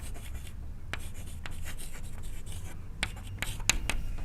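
Marker or chalk writing code on a board, with a steady scratchy scraping, and sharper strokes and taps toward the end, close and fairly quiet with no talking.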